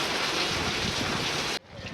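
Heavy rain and wind make a loud, rushing roar with wind buffeting the microphone, then cut off abruptly to a quieter hiss near the end.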